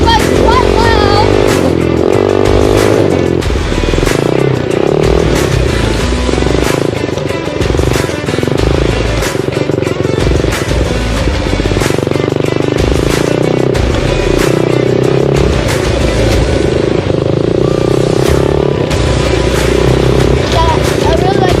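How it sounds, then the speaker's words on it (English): SSR 125 dirt bike engine running loud and steady throughout, a dense continuous roar with clattering mechanical texture, up close and dominant the whole time. "Dirt bike's quite loud."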